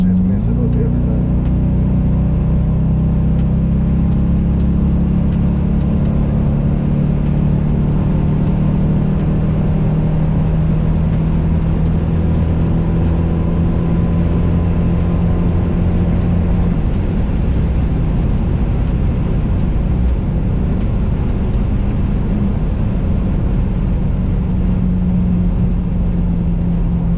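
A 2021 Dodge Charger R/T is driven on the road, seen from the driver's seat. A loud, continuous low engine drone and road rumble run throughout, rising and settling slightly, while the driver talks over it at times.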